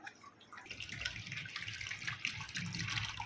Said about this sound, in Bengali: বাটির মধ্যে দিচ্ছি, বোতল থেকে পড়ছে